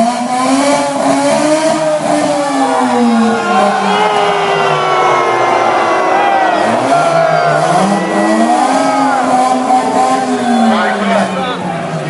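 Car at the Carlisle P&S 2011 loudest-exhaust contest revving hard, its engine note climbing and falling in repeated loud sweeps through a blaring exhaust, with a crowd faintly behind.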